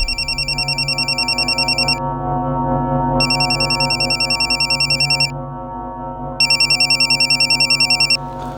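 A phone rings in three repeated bursts of a bright electronic bell tone, with short silences between them, over a low steady background hum and no voices.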